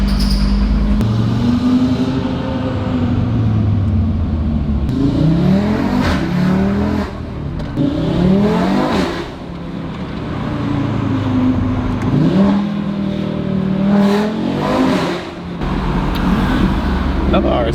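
A car engine revs repeatedly while driving, climbing in pitch and stuttering against a soft rev limiter before dropping, loud and close over road noise.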